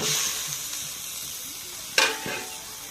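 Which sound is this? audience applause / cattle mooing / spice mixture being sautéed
spice mixture being sautéed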